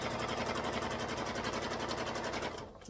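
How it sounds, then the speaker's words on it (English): A sewing machine stitches a line along a handmade beginner purse, giving a steady, close mechanical whir with a rapid needle rhythm that runs without a break and eases off just at the end. "you just stitch another line underneath it that's semi-even and call that good"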